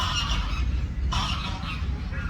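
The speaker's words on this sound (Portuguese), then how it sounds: "Gansos e patos e maritacas brigando." Geese honk and squabble in a noisy cluster of overlapping calls, fairly close, with ducks and parakeets joining the fight, against steady background noise.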